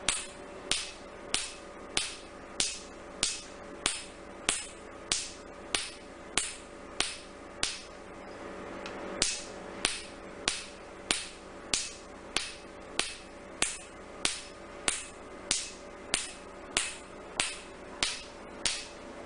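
A laser tattoo removal device fires on skin in a clinic, producing a long series of sharp snapping clicks at an even, rapid rhythm, each pulse crisp and close, over a faint background hum.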